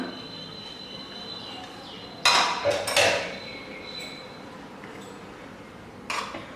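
A pressure cooker lid opening after the cooker has cooled, with mutton kheema biryani inside, giving a couple of close metallic clanks and a rattle over quiet kitchen background, then one softer clink near the end.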